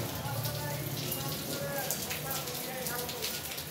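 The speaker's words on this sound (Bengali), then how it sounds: "এখনো বৃষ্টি পড়ছে।" Steady rain falls throughout, a dense broadband hiss with faint voices murmuring underneath.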